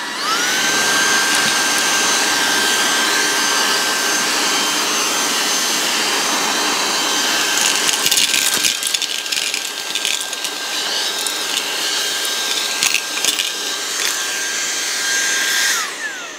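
VSGO VS-VC01 Pro rechargeable car vacuum and blower running on high, a loud close whine with a sustained high tone, spinning up at the start and winding down at the end, with rattling crackles as debris is sucked in partway through.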